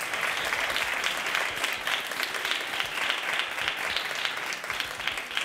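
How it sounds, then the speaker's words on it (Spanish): A studio audience applauds the contestants of a Spanish science quiz show, giving a sustained, even round of clapping with a slightly pulsing texture, fairly loud and with no talk over it. "Quiero que demos un aplauso fuerte a todos nuestros participantes."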